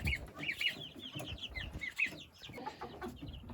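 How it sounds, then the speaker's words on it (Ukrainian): Many chicks peep in a dense, continuous chorus of high, thin chirps, close by and overlapping without pause. "Курчат."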